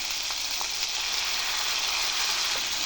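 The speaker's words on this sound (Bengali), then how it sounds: "এখন আমি এই সবকে একসাথে ভালো করে ভেজে নেব যতক্ষণ অবধি এখান থেকে তেলটা না ছাড়ছে" A paste of cashew, mustard and poppy seed with spices fries in hot oil, giving a steady close sizzle with faint crackles and stirring throughout, and no voices.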